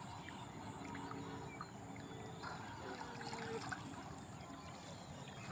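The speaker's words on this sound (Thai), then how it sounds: "ถ้ามีน้ำไหลอย่างนี้" Water flows past a woven fish trap set in a stream, a faint, continuous trickling wash with soft low rumble and no talking.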